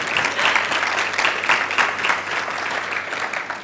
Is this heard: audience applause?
yes